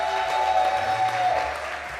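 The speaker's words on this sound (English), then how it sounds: "A big shout out, round of applause for Gideon" Applause from the crowd at an offline Age of Empires 2 esports event, a broad, steady clapping wash that fades slightly toward the end with a faint tone running beneath.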